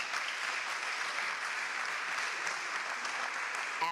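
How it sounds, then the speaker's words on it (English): Applause from an audience at a scholarship event, a dense, steady wash of clapping that holds evenly throughout, heard from a distance and fairly soft. "yeah, big round of applause."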